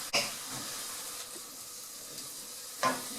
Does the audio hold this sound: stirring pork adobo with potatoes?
yes